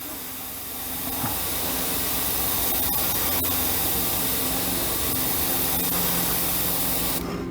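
A steady airbrush hiss spraying paint runs continuously at close range, broad and airy, with a few faint clicks partway through.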